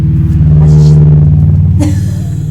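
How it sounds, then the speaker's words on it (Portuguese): Heavy tractors passing along a street in Maripá, a loud, deep steady engine drone close by with a sharp clank near the end. "Tá passando os tratores na rua"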